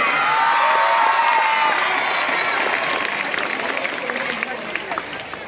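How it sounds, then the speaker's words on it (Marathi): A crowd applauds loudly and continuously at a student guidance event after a prize announcement, with cheering mixed into the dense clapping that tapers slightly toward the end. "त्यांच्यासाठी एकदा जोरदार टाळ्या होऊ देत"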